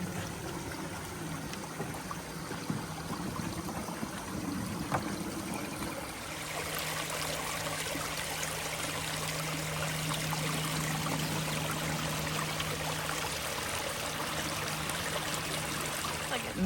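Water runs steadily in a stream beneath the Big Springs Bridge, a 1930 span in Kansas, making a continuous trickling wash that grows fuller and louder partway through, with a low steady hum underneath.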